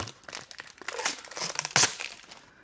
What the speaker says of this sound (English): So we'll take the plastic off.